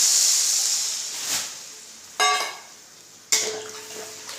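Broth poured into a pan of sizzling fried spice paste, giving a steady sizzle and hiss that flares sharply twice as the liquid hits the hot masala.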